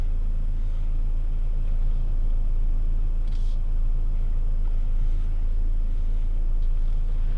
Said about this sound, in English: so I'm backing out of my garage. I go slowly.